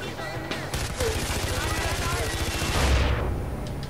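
Rapid gunfire in the video game Far Cry 4, a dense, continuous burst of loud automatic shots with a rhythmic low thudding throughout, ending in a heavier blast near the end.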